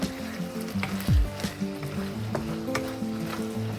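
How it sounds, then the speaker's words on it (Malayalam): Pasta alla Norma being stirred and mixed in a hot pan, a close sizzle with scraping spatula strokes and a low scrape sweep, steady over a few seconds. "നല്ലപോലെ ഇത് മിക്സ് ചെയ്തെടുക്കണം."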